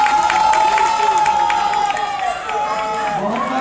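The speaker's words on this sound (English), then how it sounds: "Round of applause for Salman Khan." Convocation audience at a university graduation ceremony applauding and cheering loudly and steadily, dense crowd noise with a sustained tonal hum and clapping throughout.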